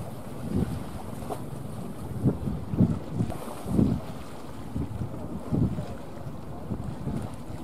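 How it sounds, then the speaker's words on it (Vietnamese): A Ben Tre trawler boat creeps slowly in to dock alongside other boats, its low engine chugging in uneven pulses under steady wind buffeting the microphone and faint water wash. "Chiếc ghe đang có từ từ tiến vào cặp vào này các bạn"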